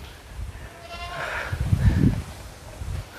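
Young goat around three months old bleating faintly at a distance while heavy low rumbling and handling noise sit underneath; no voices are present.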